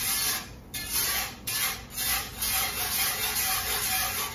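A whisk briskly stirs cream and fat together for a cheese sauce, making a steady close scraping and swishing sound with a few short pauses and no talking.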